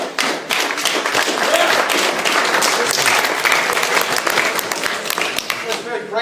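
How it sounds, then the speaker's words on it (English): Audience applause at a youth wing political society debate, clapping for an opponent: dense, steady clapping from a room of people, loud and sustained for about six seconds, with some voices mixed in and tapering near the end. "That's very gracious, clapping for your opponent"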